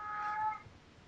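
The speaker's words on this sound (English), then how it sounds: "Is that cat trying to talk to you?" A cat gives a single short, fairly faint meow with a clear tonal rise, heard alone against quiet room background.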